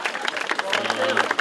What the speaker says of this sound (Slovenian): dajmo en aplavz ekipi Zlata pentlica